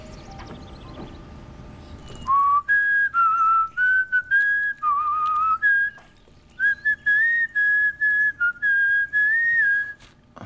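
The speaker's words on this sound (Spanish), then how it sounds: "¿Podrías dejar de silbar?" A person whistles a wandering melody indoors, loud and close, in a string of sustained and short notes with brief breaks, after a quieter stretch of faint background noise.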